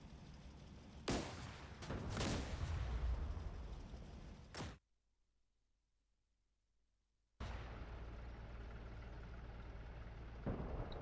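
Gun emplacements in a WWII video game mod fire on Sherman tanks, with sharp close shots and a heavy rolling barrage, an abrupt silent gap, then sustained loud battle noise with another blast near the end.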